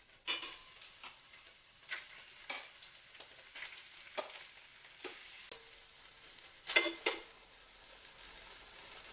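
Flank steak braciole browns in oil in a frying pan with a faint, steady sizzle, and scattered sharp clatters and scrapes come as the rolls are turned and moved. No one speaks.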